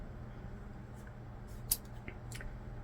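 Scissors cut through a hair loc with a few faint, crisp snips close by over a steady low background hum, with one brief slightly louder crunch in the middle.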